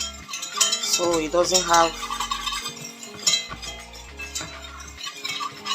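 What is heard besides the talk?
whisking flour into white sauce in a pot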